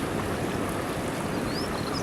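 A bubbling brook on New Zealand's southern coast, flowing down to a bay: a steady, dense wash of rushing water noise that stays even and close throughout, with no voices.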